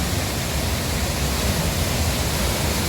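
Huai Chang waterfall in Pai district sends out a steady, dense roar of falling water, close and even throughout with no voices over it.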